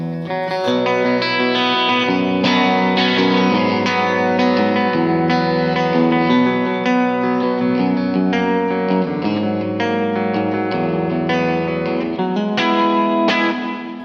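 Electric guitar from a PRS played through the pickup split to single coil mode, strummed chords and picked lines with light distortion and reverb, steady and loud throughout with regular attacks and no talking.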